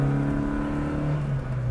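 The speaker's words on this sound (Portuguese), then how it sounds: "O motor é de corrente e portanto tem um trabalhar muito típico, mas sólido, fiável" A Fiat 127 engine with chain-driven valve gear runs at a steady idle, a close, even hum with a firm low tone and no speech over it.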